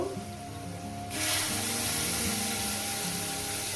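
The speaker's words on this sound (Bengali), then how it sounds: "শুক্তোর বাটি ধোয়ার জলটা আমি দিয়ে দেবো" Rinse water from the spice bowl is poured into a pan of poppy-seed curry with small fish and fried potatoes: quiet at first, then a sudden loud, steady spraying hiss continues close by.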